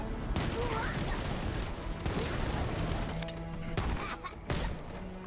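Assault rifle fire in Halo: Campaign Evolved: dense, continuous automatic bursts with a few short breaks, loud and close throughout, with booming thuds layered underneath.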